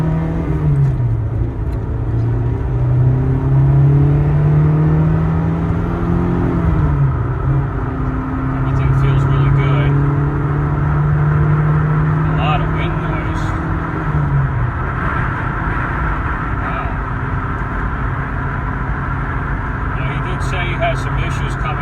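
A Honda S2000 AP1 with light modifications and a faulty rear differential drives on a test run, its engine droning steadily and rising and falling with the revs while someone talks over it.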